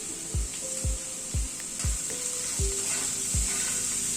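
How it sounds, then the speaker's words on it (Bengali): Chopped onions and potatoes fry in a pan with a steady sizzle, broken by about six sharp, regular knocks of a utensil against the pan; no voices. "এবার পেঁয়াজটাকে আলুর সাথে হালকা করে ভেজে নেব"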